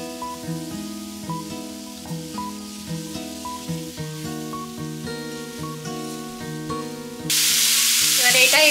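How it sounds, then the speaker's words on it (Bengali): Background music plays, then a sudden loud, steady sizzle starts near the end as chopped carrot, capsicum, peas and onion go into hot oil in a kadai. "আবার ওই একই কড়াইতে তেল দিলাম, তেলটা একটু গরম হয়ে গেল, এবার সবজিগুলো দিয়ে দিচ্ছি।"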